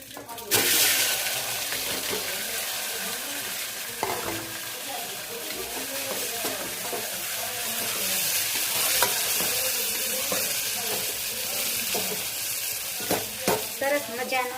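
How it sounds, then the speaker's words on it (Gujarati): Stuffed bitter gourd (karela) tempering in a pan with mustard seeds, cumin and fenugreek powder gives a steady, close sizzle with stirring scrapes throughout, a few sharper clinks near the end. "ભરેલા કારેલાનો વઘાર થઈ ગયો છે"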